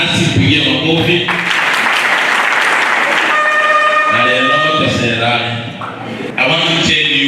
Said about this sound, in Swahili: Bwana Zahir Janga yuko hapa nasi, pigia makofi.